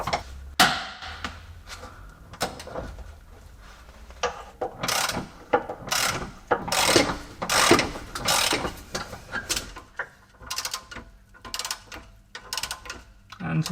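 A ratchet undoes the rear subframe bolt on the driver's side of a Jaguar S-Type, giving repeated bursts of close, rapid clicking with brief pauses between strokes.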